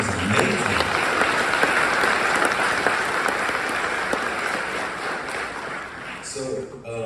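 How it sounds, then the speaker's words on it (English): A crowd gives a round of applause during an MLS All-Star week recap, steady dense clapping throughout that cuts off at the end as a voice begins. "can everybody just give another round of applause to Dorothy Hassan?"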